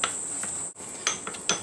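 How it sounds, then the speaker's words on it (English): A utensil stirs and scrapes melted chocolate in a microwaved bowl, making several light clinks and scrapes against its sides. The sounds are close and brief, with no voices. "Okay, so I'll give that a stir."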